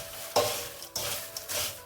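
Masala stirred into hot fried cornflakes in a pan, three or four distinct scraping stirs over a crackling sizzle, close and clear, no voices.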